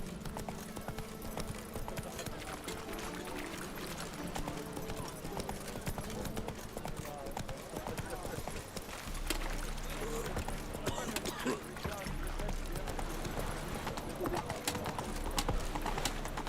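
Horse hooves gallop in The Witcher 3, a fast steady clip-clop running under game ambience and a low voice, with the pace changing partway through.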